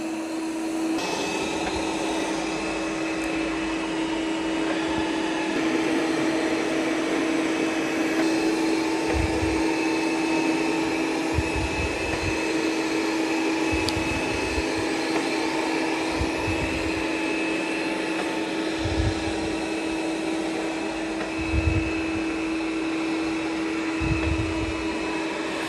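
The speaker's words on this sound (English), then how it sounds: "So now it's going to start vacuuming in straight lines." An iRobot Roomba robot vacuum running close by with a steady, loud motor whine and airflow roar, punctuated by soft thumps as it moves along in straight lines.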